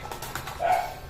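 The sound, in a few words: dog barking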